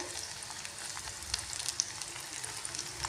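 Chopped onion sizzling in hot oil in a pan, a steady close crackle with occasional sharper pops, no voices.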